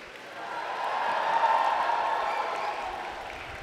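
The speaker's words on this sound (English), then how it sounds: "I invite the members of the graduating class to reciprocate by applauding your family, friends, faculty, and staff" Graduating students at a university convocation ceremony applaud their families, friends, faculty and staff, a soft, distant wash of crowd clapping that swells in the middle and fades.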